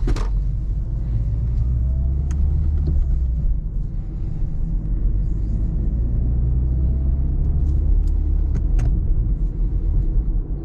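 A car follows a driving-exam route through the streets of Tauragė, its engine and road rumble steady and close throughout, with a few faint clicks and ticks from inside the cabin.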